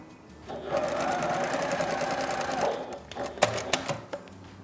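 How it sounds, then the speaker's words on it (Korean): A home sewing machine stitches a folded 1 cm hem along cotton fabric, a close, moderately quiet steady whir lasting a couple of seconds, followed by a few short clicks and bursts. "한쪽 끝을 1cm 시접으로 접어서 봉제를 해줄게요"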